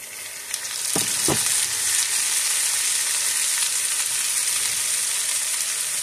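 Chopped bitter gourd (ucche) frying with potatoes in a pan: loud, steady sizzling with a couple of sharp utensil clinks near the start, then an even, continuous frying hiss.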